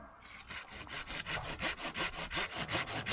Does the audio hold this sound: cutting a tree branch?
yes